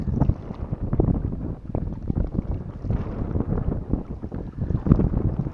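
Steady gusty wind buffets the microphone near open water while float fishing for crucian carp, a continuous rumbling roar with occasional stronger gusts.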